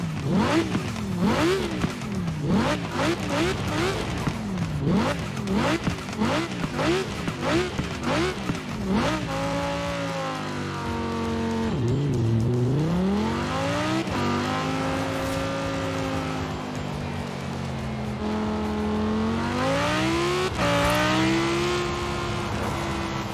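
An Audi R8 with a V10 engine in Forza Horizon 4, revving hard in quick, repeated blips, then settling into long sweeping pulls up and down through the gears, loud and close throughout.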